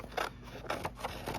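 Scissors cutting a paper page for a junk journal: a few quiet, crisp snips in a short irregular run, close and alone with no talk.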